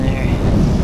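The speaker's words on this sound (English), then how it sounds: "Oh man, this wind. Pretty strong, it's cold too." Strong, cold wind buffets the microphone while cycling on a sleet-and-rain bike commute, a steady, close roar of broadband rumble filling the short moment with no clear talk.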